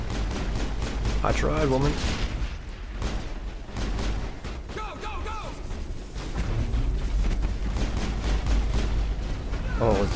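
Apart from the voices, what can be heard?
gunfire in the video game Mass Effect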